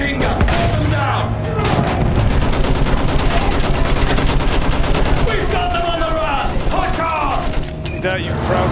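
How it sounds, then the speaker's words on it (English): Sustained machine gun fire in Battlefield 1 on a trench battlefield, rapid rattling bursts running loud and dense throughout, layered with explosions and game noise while a voice calls out over the din. "Use that machine gun! Hold them down!"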